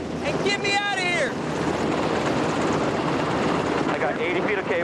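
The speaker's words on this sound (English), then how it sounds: "Helicopters fly in where nobody else can get to." A rescue helicopter flies in, its loud rotor and engine roar filling the air with a steady buffeting noise, while voices call out over it near the start and end.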